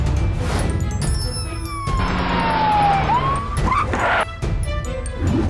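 An ambulance siren sound effect in a children's paper-doll story wails loudly with a sliding pitch in the middle of the clip, surrounded by brief clattering effects.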